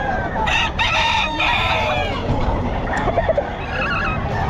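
A rooster crows loudly and nearby at a busy pet market selling gamefowl, its call rising over a dense background of clucking birds and general market noise.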